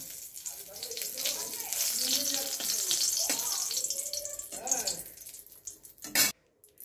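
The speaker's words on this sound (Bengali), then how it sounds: "এখন আমি শুকনো লঙ্কাটা দিয়ে দিলাম, একটুখানি ভেজে তুলে রাখবো।" Dried red chillies fry in oil in a wok with a soft, steady sizzling hiss, broken by light scraping and stirring clatter, while someone talks over it and a sharp clink sounds near the end.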